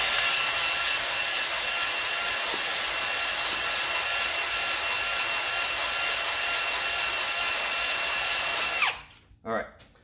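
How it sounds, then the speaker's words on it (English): An oiled hone works the engine cylinder of a John Deere R tractor, giving a loud, continuous grinding rasp from close by that stops abruptly near the end, followed by a few brief knocks. "I'll get a little bit more oil on our hone and we'll go again"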